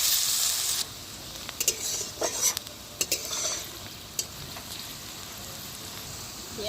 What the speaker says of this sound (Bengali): পেঁয়াজটাকে আমি লাল করে ভেজে নেব।